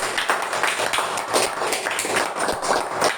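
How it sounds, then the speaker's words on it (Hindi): A group of people clapping together in an office meeting, producing a steady patter of many hands at close range that continues without pause. "प्लीज उसके लिए दूसरे तालियां मारो प्लीज।"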